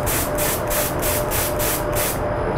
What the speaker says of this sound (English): you'll get spatters with the spray pattern as you spray,